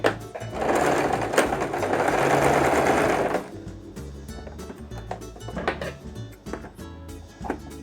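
A sewing machine runs a backstitch on an elastic-waist maxi skirt: a loud, fast, steady whir of stitching for about three seconds, then it stops, leaving soft handling clicks and thumps.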